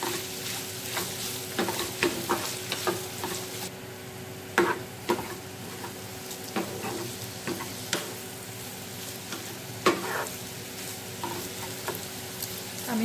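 Vegetables, including red pepper cut into halves, sizzle steadily in a pan while a spoon stirs and scrapes at irregular intervals, with sharper clatters now and then; fairly close and without talk.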